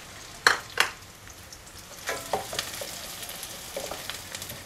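Garlic, onion and curry leaves frying in oil for a dry fish curry, with two sharp stirring scrapes early on, then softer clinks and a steady low sizzle underneath.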